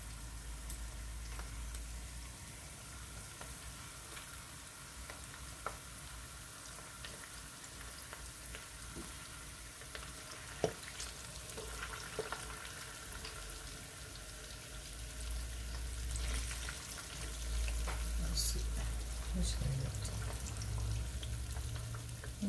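Fish frying in hot oil flavored with onion, a continuous close sizzle and crackle that grows denser and louder toward the end, with occasional light clinks and no voices.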